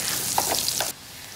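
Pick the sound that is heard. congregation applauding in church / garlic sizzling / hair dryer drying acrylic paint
garlic sizzling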